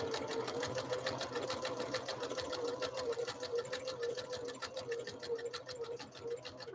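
Husqvarna Viking sewing machine stitching a decorative pattern, a rapid even needle rattle with a steady motor hum close up, running without pause.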